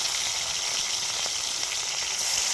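Marinated bagda prawns fry in hot oil with a steady, dense sizzle that crackles evenly throughout, close and moderately loud with no voices.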